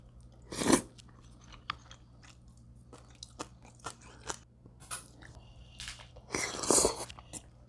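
Crunchy bites and chewing of liver dipped in ssamjang, eaten with Korean sundae rice soup at a market restaurant, with a loud bite at the start and another near the end, soft chewing and small scrapes between, close and without speech.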